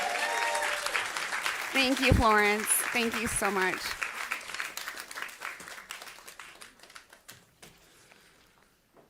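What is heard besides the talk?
audience applause for Florence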